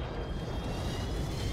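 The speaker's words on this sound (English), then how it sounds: "Okay, we're on a plane." A video-game airplane engine drones steadily from inside the cabin in Warzone, a low, rumbling roar with no pauses and no voices.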